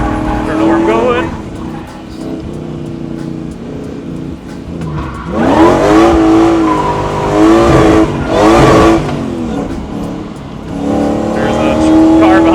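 A supercharged V8 drift truck revs hard around a large road course, engine roaring with bursts of tire squeal as it slides, loud and close, while a person talks excitedly over it.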